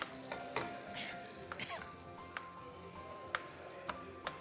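Vegetables sautéing in a hot pan for vegetable yakhni pulao, a steady close sizzle with scattered sharp crackles and a few stirring clinks and scrapes, with no talking.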